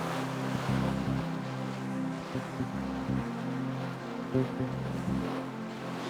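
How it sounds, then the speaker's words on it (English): Ocean swell and waves surge at sea with wind across the microphone. The low, rolling wash rises and falls in uneven surges and stays fairly loud throughout. "the ocean swell starts to take its toll on Callum and David."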